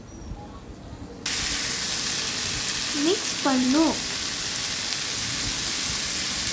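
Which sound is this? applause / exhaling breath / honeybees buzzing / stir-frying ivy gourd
stir-frying ivy gourd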